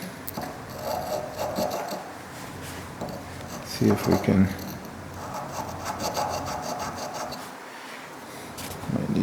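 Abrasive paper wrapped on a gauge pin rubs inside a radius on a toolmaker's square during restoration, giving repeated raspy sanding strokes close up, with someone talking quietly over it.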